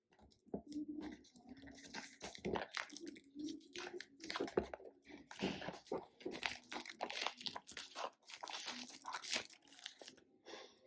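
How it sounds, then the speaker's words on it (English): Plastic outer wrap being pulled open on a boxed wireless microphone, giving close, busy crinkling and tearing bursts that run continuously with brief pauses, with no talking. "let me first open the outside plastic cover"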